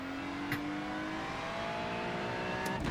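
A race car engine in the iRacing sim racing game holds a steady, loud, high droning tone while it circles the track on warmed-up tires, with a faint whoosh near the end.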